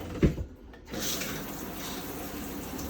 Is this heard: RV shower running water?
yes